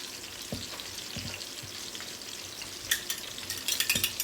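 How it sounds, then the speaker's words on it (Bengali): Spice masala for rohu fish kalia fries in a pan with a soft, steady sizzle. Occasional stirring knocks and scrapes sound close by, with no talking. "আর এখানে আমি মশলাটা কষায় নিচ্ছি"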